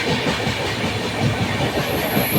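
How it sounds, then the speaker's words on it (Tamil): Train running into a tunnel near Agra, a loud, close, continuous roar of wheels on rails with rhythmic rumbling and a thin hiss, no voices. "இது வந்து அந்த குகைக்குள்ளே ட்ரெயின் போவாங்க"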